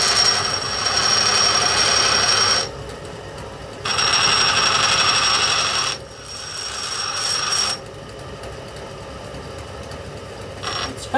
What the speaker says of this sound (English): This will probably shorten the life of that stone, the grinding stone